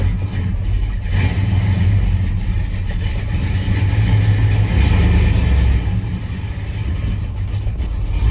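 A hot rod 4x4 with swapped heads and cam accelerates on a drive, its engine a loud, steady low rumble that surges and holds throughout with no talking.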